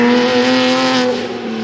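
A Porsche engine roars at high revs with a strong steady tone, easing off slightly near the end, loud and close with no talking.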